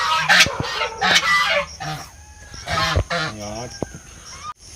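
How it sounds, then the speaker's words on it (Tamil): Muscovy ducks give harsh, honking calls close by, mixed with a person talking. "இங்கே மணிலா வாத்துகள் பார்த்தீங்கன்னா இங்கே வந்து நின்றுட்டாங்க ரெண்டு பேருமே இங்கே நிற்கிறாங்க"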